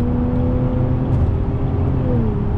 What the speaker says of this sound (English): the car is now running like an absolute dream